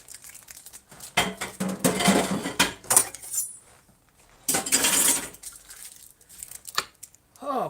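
Dishes, pots and cutlery clatter and clink during washing up at home, in two busy bursts separated by quieter handling, fairly close and loud.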